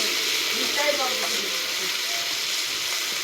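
Koi and taki fish frying with garlic in hot oil, a steady loud sizzle that holds throughout, with a voice speaking briefly over it.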